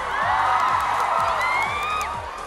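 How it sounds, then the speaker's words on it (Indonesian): A studio audience on an Indonesian TV talent show cheers and whoops loudly for the judges over a steady music beat, the crowd noise swelling and then easing off toward the end. "Tepuk tangan sekali lagi for our judges"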